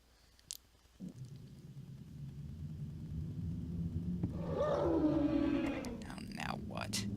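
Howler creatures in the video game Clive Barker's Undying let out a swelling, groaning howl that builds over several seconds, loud and warbling, after a few sharp clicks and knocks.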